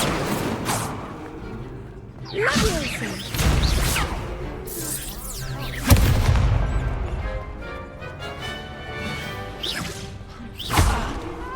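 A fire spell cast in the video game Hogwarts Legacy, heard as repeated loud whooshing bursts and crackling impacts amid combat effects, several blasts spread across the stretch.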